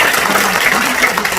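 Dense, loud applause from a crowd at a political party founding rally, a steady wash of clapping with faint voices underneath.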